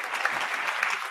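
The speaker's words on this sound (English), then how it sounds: "Can you please give them a big round of applause" A short burst of crowd applause for a discussion panel, moderately loud and continuous, with a few sharper claps standing out near the end.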